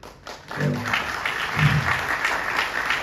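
Audience applause at a university lecture hall: a burst of clapping rises after a short pause and holds steady for a few seconds, with a brief voice heard over it at the start.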